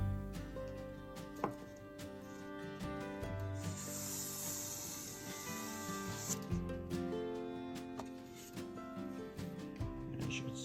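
A towel rubs and wipes sawdust from the edges of an acoustic guitar soundboard, making faint, repeated brushing and swishing strokes with an occasional soft knock against a background hum.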